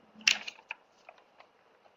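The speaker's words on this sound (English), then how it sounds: "Somebody is typing." Faint, sparse keystrokes on a computer keyboard, a handful of soft clicks spread irregularly over a couple of seconds in a quiet room.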